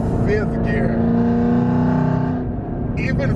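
A 1000-horsepower Camaro ZL1 accelerating hard in fifth gear, its engine droning loud and close with a rising, steady harmonic tone, while someone talks excitedly over it.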